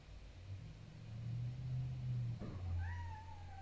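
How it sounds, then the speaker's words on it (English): A cat meows faintly in the distance indoors, a short rising cry near the end over a low rumbling background hum. "I've got a cat meowing at me."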